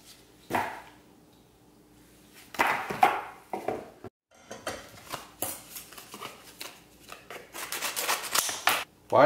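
Someone struggling to open stiff plastic SD card packaging, with bursts of crackling, snipping and tearing that come in uneven clusters separated by brief pauses, close and fairly loud.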